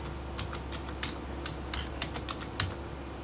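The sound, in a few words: typing a folder name on a computer keyboard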